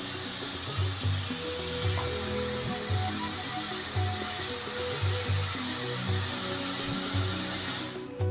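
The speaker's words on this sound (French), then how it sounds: "En même temps, il faut remuer la sauce." Sauce for a Cameroonian gourd and mushroom dish cooks in a pan while being stirred: a steady close sizzling hiss runs throughout, with faint low tones underneath and a brief change near the end.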